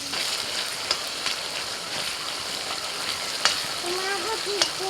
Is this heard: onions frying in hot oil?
yes